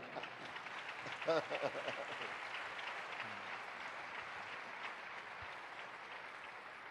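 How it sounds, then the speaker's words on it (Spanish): Congregation applause in a church service, a steady mass of clapping at moderate distance, with a brief burst of voices near the start and a low murmur beneath. "go ahead and clap"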